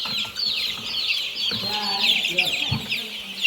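A flock of chickens at a poultry farm in Ghana cluck and squabble around a feeder, producing a continuous, close, busy chorus of overlapping clucks and squawks.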